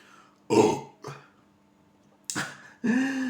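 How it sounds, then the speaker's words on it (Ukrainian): Someone drinking Fire Dragon energy drink lets out several loud, croaky burps close to the microphone, in short separate bursts with brief quiet gaps between them. "Відрижка"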